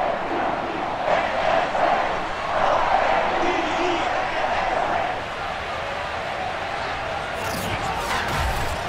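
Baltimore stadium crowd cheering as the Ravens and Eagles come out of their tunnels before an NFL game: a distant, continuous roar of many voices that swells and eases, with a commentator talking over it.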